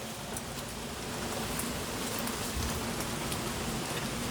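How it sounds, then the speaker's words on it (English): Heavy rain pours down outdoors in a steady, dense hiss that stays loud and constant throughout, with no voices. "it was gonna rain like all hell"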